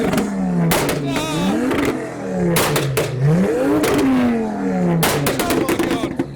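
A modified car at a UK car meet on a hill revs hard and fires loud, sharp exhaust pops and bangs in repeated bursts. Rising and falling engine sweeps break into cracking clusters, close and very loud.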